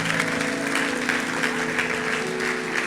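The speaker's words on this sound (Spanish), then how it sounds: "Démosle un aplauso al Señor." A church congregation at a Sunday worship service claps together, a dense continuous rattle of hands over a held musical tone in the background, fairly loud and even throughout.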